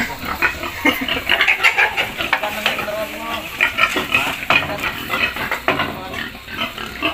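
Pigs on a farm being caught and moved for weighing before sale to fatteners, with squeals and grunts mixed with clatter and handling noise, fairly close and busy throughout, with people talking now and then.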